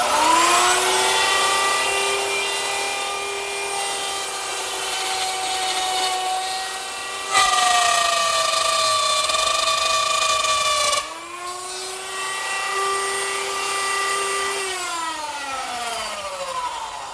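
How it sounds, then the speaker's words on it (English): Wood router plunging into a blanket chest leg to cut a mortise, a steady high whining motor tone with strong harmonics that shifts pitch at each plunge, winding down and restarting, loud and alone. "I use the same router setup with a stop block in a new position and a reference line to plunge down into the router bit"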